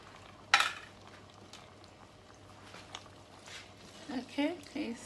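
A spoon scrapes and clinks in a pan, breaking up mackerel fish and stirring it for a simple spaghetti dish; a sharp clank opens the quiet stirring, with a person talking throughout.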